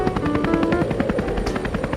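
A cartoon helicopter sound effect: steady rapid rotor chopping with a whining engine tone, loud and continuous, with no voices.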